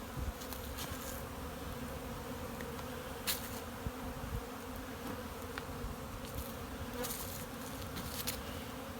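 Honey bees hum in a dense, steady drone at the entrance of a hive in spring, with individual insects buzzing close past now and then.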